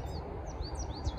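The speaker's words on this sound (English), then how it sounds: "You guys hear all these birds?" Birds chirp and tweet in a city park by a river, short rising calls scattered over a steady low rumble of wind and traffic.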